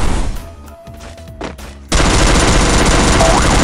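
Rapid gunfire in a shooting video game: scattered shots and a brief lull, then a loud sustained burst of automatic fire that fills the rest of the moment.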